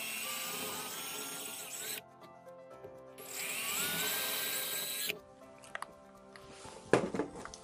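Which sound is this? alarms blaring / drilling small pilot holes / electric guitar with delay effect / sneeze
drilling small pilot holes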